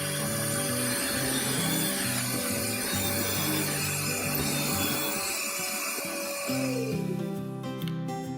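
A drill boring pocket holes through wood in a Kreg pocket hole jig with dust collection attached, a steady close whirring grind running throughout with shifting tone, ending in a brief higher rattle near the finish.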